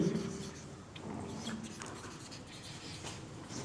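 Chalk or marker writing on a classroom board during an English grammar lesson, soft scratchy strokes in short bursts over a low room hum, no voice over the writing.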